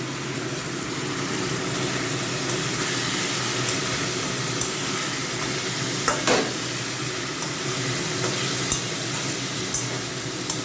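Vegetables sautéing and being stirred in hot oil in a pan, a steady broadband sizzle throughout with occasional louder scrapes and clinks of the spatula, close and continuous with no talking.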